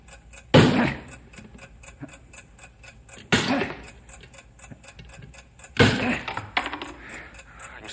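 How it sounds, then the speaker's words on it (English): A bomb's timing device ticks steadily and fast through a radio drama scene, broken by three loud blows from a hammer striking a wedge, each followed by a short ringing decay. "I can still hear the ticking"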